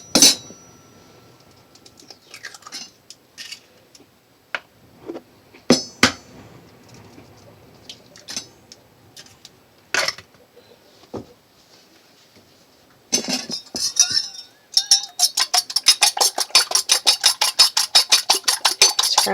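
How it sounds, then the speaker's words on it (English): Two eggs whisked in a bowl for homemade noodles: sharp clinks and taps against the bowl at first, then a fast, steady run of rhythmic beating strokes, close and fairly loud, with no talk. "Scramble up a couple eggs."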